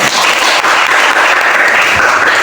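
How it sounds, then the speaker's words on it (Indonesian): Applause for a student group in a classroom lesson, a dense, steady wash of many hands clapping that fills the whole stretch at close range, with no voices over it. "tepuk tangan untuk kelompok"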